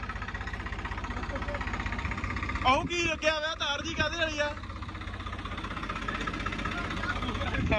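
A Swaraj 744 tractor engine idles with a steady low chugging throb throughout, while someone speaks briefly near the microphone over it.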